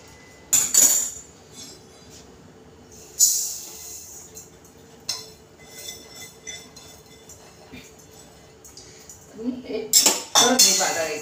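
Roasted rice scraped and scooped from a pan while dry-roasting chakli bhajani flour, with metal spoon clinks and scrapes in short bursts near the start, middle and end over a quiet background.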